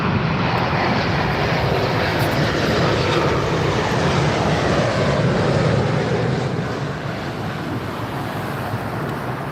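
A British Airways plane arrives on runway 27R at London Heathrow, a loud, broad engine roar that holds steady and then eases slightly toward the end, with no voices.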